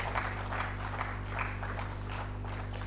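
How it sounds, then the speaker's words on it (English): Steady applause from an audience at an engineering week keynote, moderately loud and continuous over a constant low electrical hum, with no talking. "Please, another round of applause for this wonderful keynote address."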